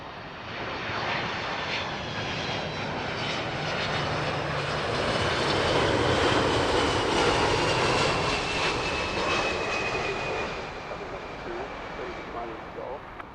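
A United 767 airliner touching down at Heathrow Airport, a steady roaring jet engine wash that swells and then eases, heard from a distance with voices talking over it.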